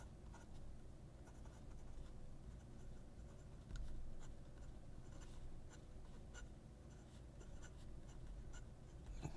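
A dip pen nib scratches steadily across paper while being tested, a soft, continuous, close rasp with faint stroke-by-stroke variation and no talk.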